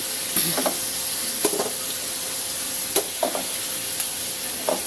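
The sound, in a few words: sautéing shrimp paste and sweet potato for pakbet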